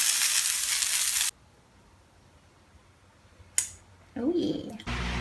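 Shrimp sizzling in a frying pan with black pepper, a loud broadband hiss for the first second, then near silence, followed by brief clatters and renewed sizzling toward the end.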